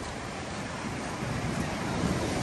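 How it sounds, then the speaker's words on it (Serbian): Wind roars over the mic with the wash of big sea waves on a Moroccan coast, a steady, dense broadband rush that builds slightly toward the end with no clear voices. "to je pogodno za surfere, zato što su veliki talasi. I mnogo je vetrovito"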